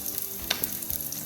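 Very hot oil frying in a pot while cooking white rice, a short close burst of crackling sizzle with small pops and spatters and no voices.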